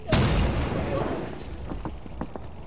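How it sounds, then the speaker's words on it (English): An explosion in a video game, a loud booming blast at the start followed by a rumbling decay with scattered crackling pops. "Why did I just hear another explosion?"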